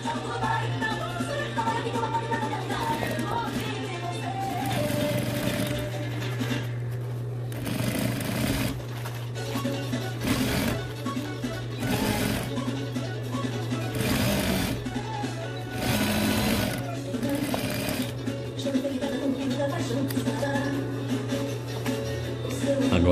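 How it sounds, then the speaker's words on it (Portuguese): A sewing machine stitches a fabric boot cover with a fast, steady mechanical whir, running on and off in short bursts over a constant low hum, close and loud. "E a gente vai costurar agora."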